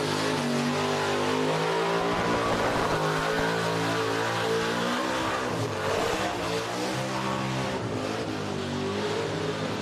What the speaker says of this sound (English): they love to see the big cars doing 180s and 360s there